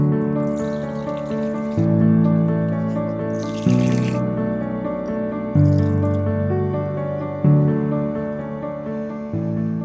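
ABC juice straining through a filter, a close, steady trickle with a tonal ringing layer that swells in several distinct steps, no talking.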